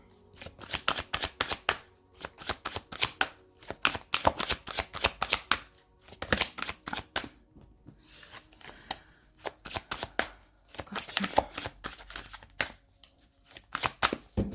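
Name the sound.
tarot cards being shuffled and cut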